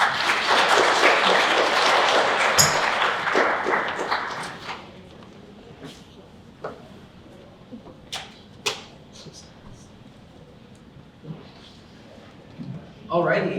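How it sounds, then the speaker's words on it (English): Audience applause at an esports workshop swells loudly for about four seconds, then fades into scattered claps and a few sharp taps before another burst at the end. "Round of applause."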